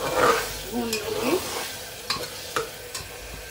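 Sliced onions fry in hot oil in a pan for chole with a steady, soft sizzle. A few sharp scrapes and clinks of a spoon stirring against the pan break through now and then.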